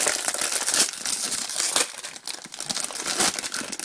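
A plastic blind bag holding a Doctor Who figure is torn open by hand, giving steady, close crinkling and crackling with sharper crunches along the way, with no talking over it.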